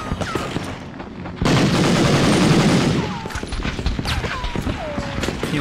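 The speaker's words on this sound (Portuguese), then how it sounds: "E o cara atirando feito um doido aqui, ó" An enemy soldier firing in Medal of Honor on PlayStation 1, first scattered single shots, then a loud burst of sustained automatic fire for over a second, then more separate shots mixed with short whistling ricochets.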